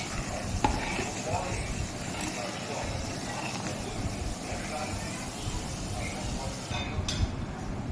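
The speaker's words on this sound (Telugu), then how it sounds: "ఇంగువ వేసుకోవాలి దాన్ని మిక్స్ చేసుకోవాలి అన్నీ రోస్ట్ అయిపోయాయి" Roasted spices with asafoetida being stirred in a pan, a steady scraping and stirring with a low sizzle underneath, close and continuous, with a few sharp clinks along the way.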